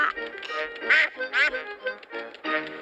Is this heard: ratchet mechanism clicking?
no